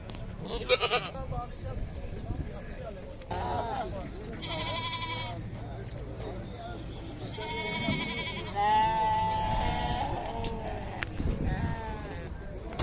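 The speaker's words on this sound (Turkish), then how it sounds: "Maltız ile Salem Melezi gerçekten çok kaliteli bir Keçiye benziyor." Maltese and Saanen cross goats bleat repeatedly at a livestock market in İzmir, loud nearby calls rising over a busy background, with people talking throughout.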